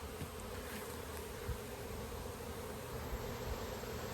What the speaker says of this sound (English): you can see the quantity of bees hanging around the outside